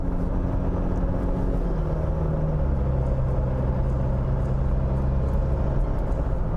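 A 2020 Mitsubishi Pajero Sport Exceed pulls onto a highway and accelerates, its engine a steady low rumble with rising tone under constant road and wind noise heard from inside the cabin.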